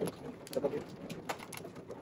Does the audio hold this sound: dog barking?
no